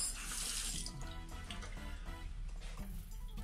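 A cabin bathroom sink tap on a Viking Orion cruise ship veranda stateroom runs steadily, a close, continuous water rush and splash filling the basin throughout.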